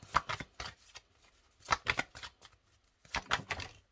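Tarot oracle cards handled in a reading, giving short bursts of crisp shuffling and flicking in three clusters separated by brief quiet gaps, with no talking.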